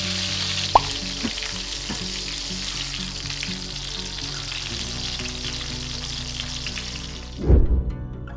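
Cauliflower florets frying in hot oil over a medium-high flame for aloo gobi, a steady dense sizzle with a few spattering pops, continuing alone without talk until a louder clatter near the end.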